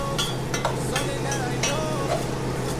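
Rockfish taco filling slowly sautéing in a pot, a soft continuous sizzle under light stirring scrapes and a few metallic clinks of a utensil against the pot, close and steady.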